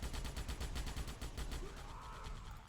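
Dense, rapid gunfire in a video game crackles continuously and loudly, bursts overlapping into a sustained barrage.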